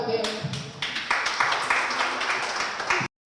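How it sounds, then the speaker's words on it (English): An audience applauds the coding instructors at the finale of a children's tech camp. The clapping is steady and crowd-like, lasts about three seconds and then stops abruptly. "So please clap for them."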